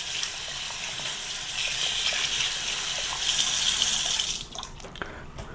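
Hot water gushing steadily from a household tap right after a DIY water heater installation, a continuous bright hiss that swells louder midway, then drops to a softer trickle with a few clicks near the end.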